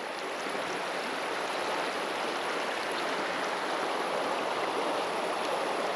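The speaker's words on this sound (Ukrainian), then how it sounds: "Напір ну, води великий." Strong, fast river current over a shallow riffle on a warm evening, a steady, broad rushing and hissing of water that stays loud and continuous throughout, with no voices.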